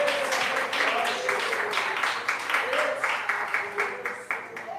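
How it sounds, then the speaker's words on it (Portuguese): A church congregation claps hands joyfully in a steady rhythmic beat, loud and close, while a preacher's voice speaks over the clapping. "Palmas bem alegres para o Rei da Glória, Jesus Cristo. Mais forte as palmas para Jesus"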